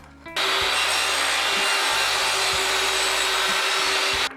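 A table saw cuts a dado in plywood with a loud, steady whine and rasp, starting abruptly and running alone for about four seconds.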